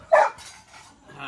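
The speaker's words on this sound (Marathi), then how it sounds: "हे बघा आमचा डॉग" On a farm, a dog gives a single short bark close by, followed by near quiet and faint background sound.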